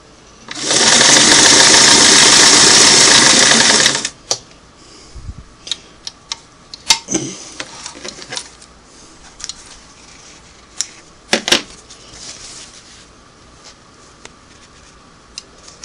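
A Singer Model 338 sewing machine runs a single-needle zigzag stitch at 8 stitches per inch, buzzing steadily and loudly for about three seconds. The motor then stops and scattered mechanical clicks and handling taps follow.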